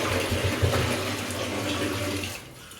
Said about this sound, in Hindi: इधर से पानी का शोर आ रहा होगा